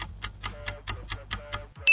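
The Reebro monster's voice from the game My Singing Monsters: a quick, even run of about eight ticking clicks with a faint tone underneath, fairly quiet, followed by a short bright burst at the end.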